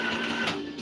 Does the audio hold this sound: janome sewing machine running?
yes